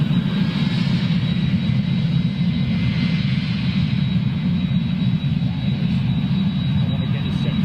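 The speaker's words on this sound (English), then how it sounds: "I want to get this 767 rolling on. I think he's got CF6 power." A Boeing 767 jet airliner with CF6 engines rolls with a steady, loud engine roar and a thin high whine, heard from a distance and continuing throughout.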